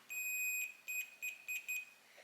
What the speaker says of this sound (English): this should give me the beep